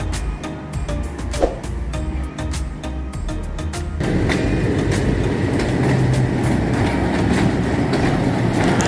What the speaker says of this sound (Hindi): लोको शेड वापस जा रहा है 8046 सर सैयद एक्सप्रेस को जो प्लेटफार्म नंबर 3 पे लेके आया था